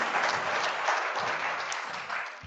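A conference audience at an oil and gas event gives a round of applause, a steady wash of many hands clapping that fades slightly toward the end, with no voices over it.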